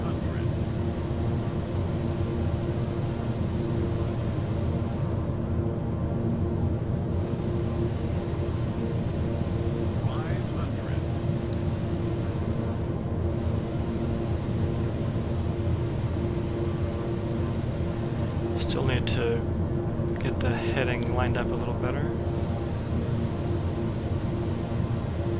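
A King Air 350i twin-engine turboprop in Microsoft Flight Simulator, low over the ground: a steady, droning engine hum that runs unbroken throughout, with a voice briefly talking over it near the end.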